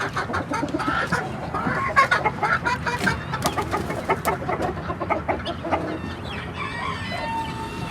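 Sussex chickens cluck busily and continuously nearby, a dense flock chorus with overlapping calls and a brief crow mixed in.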